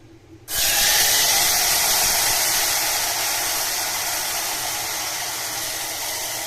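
Onion and tomato paste dropped into hot oil for chicken curry, an abrupt loud hiss that erupts and then settles into a steady, slowly fading sizzle.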